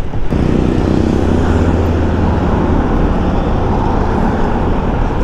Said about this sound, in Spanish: me pasó muy cerquita ese carro